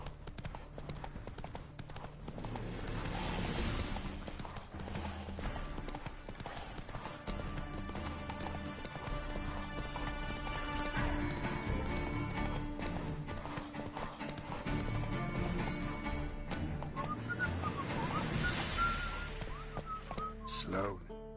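Roach, a horse in The Witcher 3 video game, gallops with a continuous clip-clop of hooves under game music, with occasional whinnies and faint whistling throughout.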